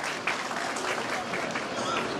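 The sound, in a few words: audience applause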